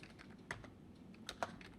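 Quiet typing on a computer keyboard while entering a few characters and pressing the tab key, a handful of soft, irregular key clicks heard close with no talk over them.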